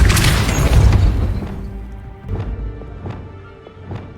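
A Depulso spell strikes in Hogwarts Legacy with a loud, rumbling boom that fades over a second or two. A few lighter knocks and thumps follow, spaced apart in the quieter remainder.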